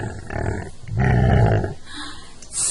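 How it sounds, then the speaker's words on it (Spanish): A pig grunts in low, rough bursts, two main snorting growls close by with a faint noisy pause between. "Sí, chancho."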